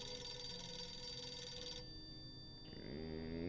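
A telephone rings in the video game 60 Seconds, a bright trilling bell that sounds steadily and then cuts off partway through, giving way to a softer low musical tone.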